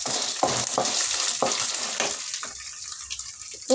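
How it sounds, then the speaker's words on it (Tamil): Chana dal, urad dal, garlic and dried red chillies sizzle in hot oil, with steady frying hiss and several scraping stirs in the first half, then the sizzle quiets to a softer bubbling. "கடலைப்பருப்பு, உளுந்தம்பருப்பு, பூண்டு, காஞ்ச மிளகா இதெல்லாம் இப்போ ஒன்றா சேர்த்துக்குவோம்."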